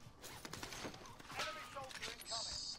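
Distant gunfire in Call of Duty Warzone, faint scattered shots and short bursts in a quiet, busy game scene, with some mechanical clatter and a brief high tone near the end.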